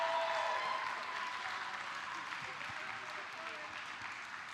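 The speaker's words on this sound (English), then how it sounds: "One more round of applause, not only for our amazing judges with the work they did," A convention masquerade audience gives a sustained round of applause for the judges and contestants, a dense even wash of clapping that gradually fades, with a voice faintly over it at the start.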